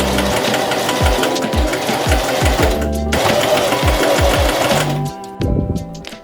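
A sewing machine stitches bias tape along a dress neckline in rapid rhythmic bursts of mechanical whirring and thumping, several short runs in a row, loud and close, before stopping near the end.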